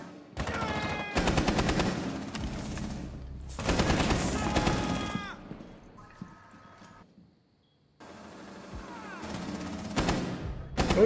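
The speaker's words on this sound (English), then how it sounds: "Oh, they're shooting each other." In a team game, gunfire rattles in rapid automatic bursts as players shoot each other, loud and dense for several seconds, then breaks off into a brief quieter gap before another burst starts.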